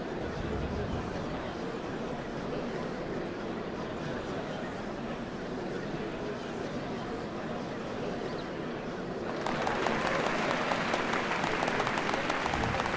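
A large crowd applauds in Final Fantasy XIV at a ceremony for the Dawn servants, a continuous roar of clapping and crowd noise that grows louder and brighter partway through.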